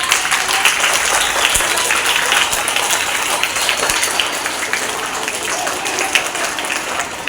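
A school audience applauds to welcome the principal at a Hindi Divas event, a dense steady wash of clapping that holds at an even, fairly loud level throughout with no voices over it.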